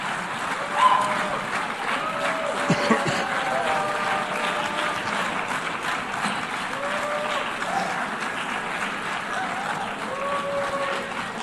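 An audience at a world leaders' gathering claps steadily, a dense sustained applause with a few brief voices rising over it.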